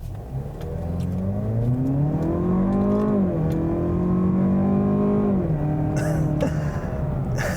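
A 2017 Chevrolet Camaro RS with the 2.0-litre turbocharged four-cylinder engine accelerates on the road, its steady drone climbing through the revs, dipping at a gear change and climbing again, heard from inside the car with no talking.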